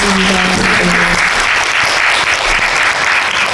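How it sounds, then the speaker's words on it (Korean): An audience at a memorial film screening and Q&A claps steadily, a dense wash of applause that holds for several seconds, with no talking. "박수 부탁드리겠습니다."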